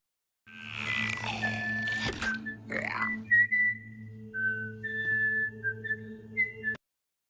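A person whistles a wavering tune in a series of sliding notes, fairly close, over a steady low hum, with a brief rustling burst early on.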